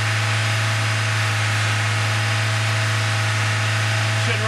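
A car engine runs at a steady hold of about 2,000 RPM during an oxygen sensor check, giving a constant, loud, close mechanical drone with an even hum and no pauses.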